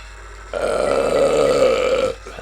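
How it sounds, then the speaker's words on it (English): A loud, sustained burp from a man playing Mario Kart, lasting nearly two seconds close to the microphone, standing alone with no talk over it. "belching my way to the top Luigi style"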